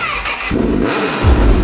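Three motorcycles submerged in a swimming pool rev loudly together, a dense, churning engine roar with sloshing water that swells and surges over under two seconds, no talk.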